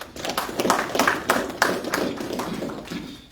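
An audience claps at a reception in Zambia's Western Province. The applause is steady and fairly loud, with dense overlapping hand claps and some sharper individual slaps through the whole stretch.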